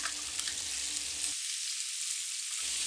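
Sliced white part of green onion stir-frying with pork belly on low heat gives a steady, fairly loud sizzle, broken by a stretch of dead silence partway through.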